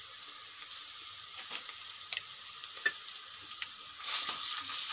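Ginger garlic paste frying in a pan while being stirred, a steady close sizzle with scattered scraping taps of the stirring, the hiss swelling louder toward the end.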